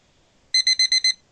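An electronic alarm gives five quick, evenly spaced high-pitched beeps, loud and clear over near silence.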